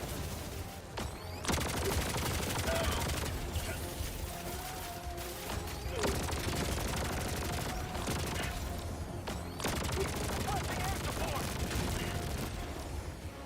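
Enemy machine gun nest firing in the video game Helldivers 2, heard as loud, sustained rattling bursts with short pauses between them, mixed with other battle noise and voices talking over it.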